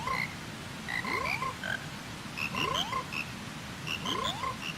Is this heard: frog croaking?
yes